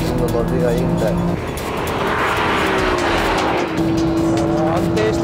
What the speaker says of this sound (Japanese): NSX の方がエンジンの伸びがいいみたい。